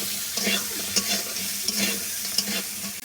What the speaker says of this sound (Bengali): এখানে কাঁকড়াটা ভাজা হচ্ছে